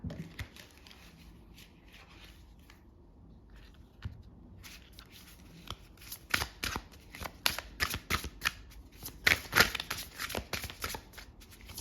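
Tarot cards shuffled and drawn for a weekly reading, soft riffling and slapping that start faint and grow into a busy, louder run of crisp card flicks, close by with no talking.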